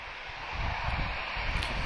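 A Boeing 737-400 airliner at Lisbon Airport gives a steady broadband jet engine roar, loud and continuous, with no talk over it.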